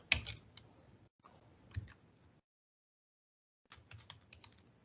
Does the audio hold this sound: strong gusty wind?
no